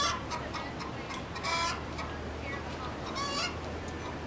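Backyard chickens making clucks and honking calls in a few short bursts, moderately close over steady outdoor background noise, with no voices.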